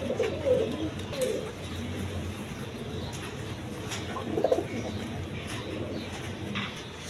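Seven-eyed gorra pigeons, offered for sale, coo nearby: soft, low, rolling coos recur over a steady background murmur, with a slightly louder burst midway.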